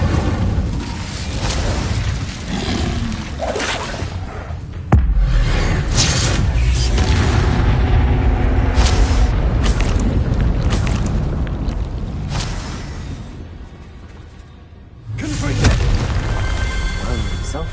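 Incendio fire spell cast in the video game Hogwarts Legacy, a loud sustained roaring burst of flame with booming, whooshing blasts lasting many seconds, dense and close, with a spoken voice mixed in under the game sound.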